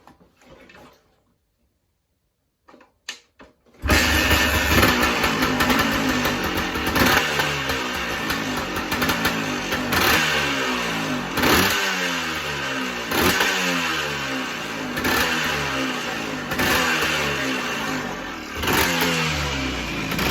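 A 1982 Honda ATC250r converted to two wheels, its engine catching after quiet handling noises and then running loud and close with a rough, popping idle broken by repeated throttle revs.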